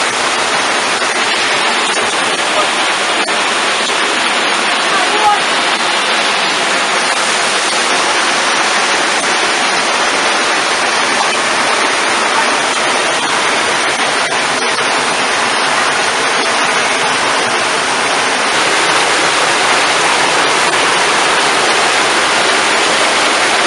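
A waterfall near Mezmai in the Apsheronsk district roars in a loud, unbroken wash of rushing water that holds steady throughout with no voices.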